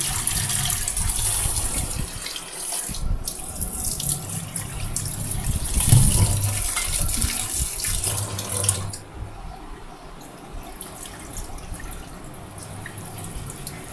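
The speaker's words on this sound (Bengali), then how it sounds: "আমি চাল আর আলুগুলো ভালো করে ধুয়ে নিই।" Rice and potatoes are rinsed by hand in water at a kitchen sink, with a steady run of tap water, light splashing and dripping that continue for the whole stretch, close and fairly loud, with no voices.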